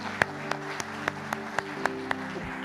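In a church service, hands clap in a steady, rhythmic beat, about four sharp claps per second apart, over sustained background music.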